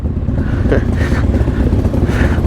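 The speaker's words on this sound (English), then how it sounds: "Look at this big Harley rumbling away, and it's got skulls on the muffler tips." A big Harley-Davidson motorcycle with skull-shaped muffler tips rumbles steadily at close range, a continuous low engine drone at a moto camp in Estonia, with faint voices in the background.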